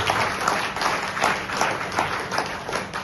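A seated audience claps loudly in unison at a health talk, a dense, even burst of applause filling the room without pause.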